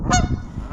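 Canada geese along the Columbia River let out a loud, brief honk, close by and rough-edged over outdoor background noise.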